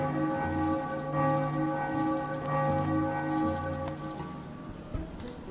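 Church bell tolling in the puzzle adventure game Drawn: The Painted Tower, a loud, resonant peal with repeated strikes and long ringing tones sustained throughout, sounding alone.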